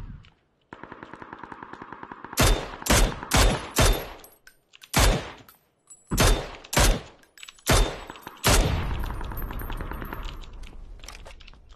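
Bursts of automatic gunfire in the video game PUBG, several sharp loud volleys in quick succession with short gaps, some rapid rattling strings, ending in a longer noisy tail.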